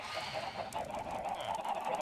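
Chickens in the game Minecraft cluck and squawk continuously at close range, a dense stream of bird calls with no talk.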